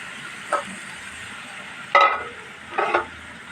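Vegetables sautéed with spice paste in a pan for a fish curry with tengra fish, eggplant and potato, heard as a few brief bursts of stirring and sizzling, the loudest near the middle, over a low background.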